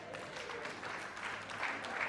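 Wedding guests clapping together at a celebration, a steady and fairly soft patter of many hands that keeps an even texture for about two seconds.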